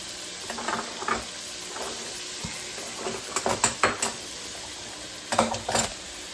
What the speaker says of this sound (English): So we're going to stir it up again.